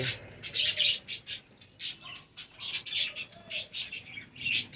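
A colony of pet budgies in a cage chirps busily, with a rapid stream of close, overlapping high tweets and chatter that keeps going without a pause.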